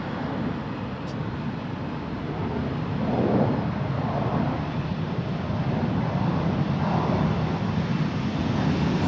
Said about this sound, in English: Here we have an E2 Embraer 195 KLM flight 927, which is leaving for Edinburgh